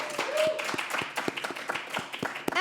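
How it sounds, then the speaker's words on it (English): Studio audience clapping for a guest on a live talk show, sparse and fairly quiet, with individual claps distinct rather than a dense roar. "Yelappa Visser, can I get a round of applause?"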